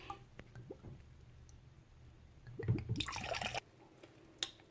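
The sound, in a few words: overproof white rum poured from bottle into sorrel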